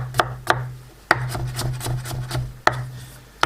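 A knife slicing potatoes on a cutting board, with about eight crisp, irregularly spaced chops and quieter scraping between them, close and clear with no voices.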